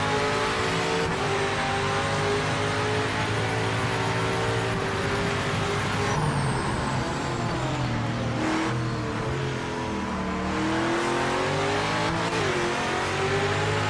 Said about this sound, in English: I will say, though, the Cadillac sounds good